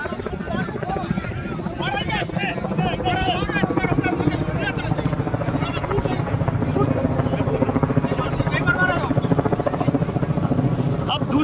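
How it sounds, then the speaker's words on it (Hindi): A loud landing helicopter's rotor thumps steadily and close by at a wedding procession, a continuous rhythmic chop with voices talking underneath. "अब दूसरी बार फिर से हेलीकॉप्टर उतारने की तैयारी में है"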